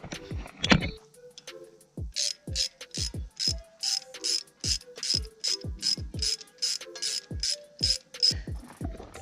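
A ratchet tightens a nut on a County Line three-point post hole digger, cranking in a steady series of loud, rhythmic pawl clicks with metallic ratcheting strokes and no talking.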